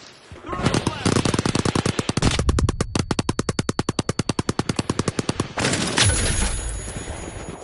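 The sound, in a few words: gunfire in the video game The Finals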